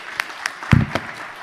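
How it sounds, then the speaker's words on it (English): A handful of scattered claps from an audience at the IAF 2024 conference, honouring the moderator and panelists, with one slightly denser burst in the middle; brief and fairly thin rather than a full ovation. "let's give our round of applause to Madam Moderator and all our panelists"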